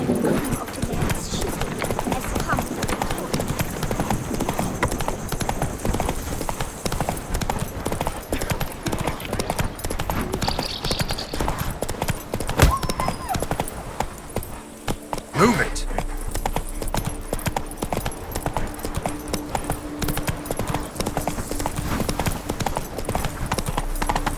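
A horse's hooves clip-clop in rapid, steady galloping rhythm throughout the Witcher 3 game scene, loud and close, with a voice speaking in the background at times.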